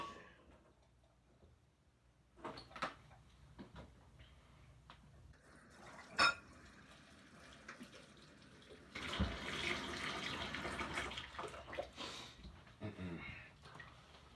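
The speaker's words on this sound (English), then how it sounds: "Now I'm going to take our bowl and put this in the sink to be washed." Water runs from a kitchen sink tap while a bowl is washed: a soft, fairly distant rush that swells louder midway, with a few scattered clatters and knocks and a dog panting faintly nearby.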